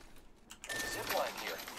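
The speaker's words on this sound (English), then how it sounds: "I'm spotted, taking fire." Gunfire in the shooter game Apex Legends: a dense burst of rapid shots starts partway in and keeps on loud and close to the end, with a voice talking over it.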